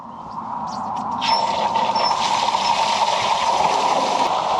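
Water gushes steadily from a burst pipe at a house during a city water outage, a close, continuous broadband hiss and splatter that swells after the first second and holds loud and even, with no talk.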